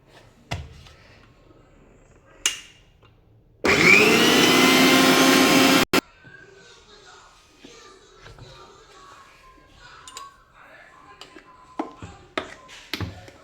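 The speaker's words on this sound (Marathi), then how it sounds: "असं चमच्याने कालवूनच आपण चालू बंद करून हे दळून घ्यायचं आहे सर्व." A mixer grinder grinds ginger garlic paste in one loud, steady burst of about two seconds, switched on and then off, with quieter clinks and kitchen handling sounds before and after it.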